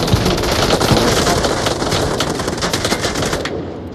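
Dense, rapid gunfire in the VR shooter Onward, loud and sustained bursts from nearby filling the whole stretch before cutting off abruptly at the end.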